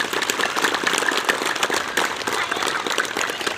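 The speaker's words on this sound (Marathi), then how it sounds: "आपण टाळ्या वाजवून त्यांचं स्वागत करूया" Applause welcomes a guest at a Dhule event for International Yoga Day water yoga, with dense, steady clapping from a crowd lasting throughout.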